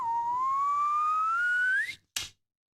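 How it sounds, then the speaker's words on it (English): A slide whistle sound effect in an audiobook: one loud, sustained tone gliding slowly upward for about two seconds, then cutting off, followed by a short, sharp burst of noise. "The slide whistle sound plays again."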